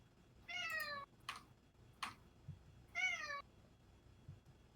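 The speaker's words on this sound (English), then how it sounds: "someone's meowing" A cat in the room gives two clear drawn-out meows, close and distinct, with a few softer chirps and light keyboard clicks in an otherwise quiet space.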